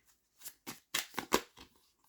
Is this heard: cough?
no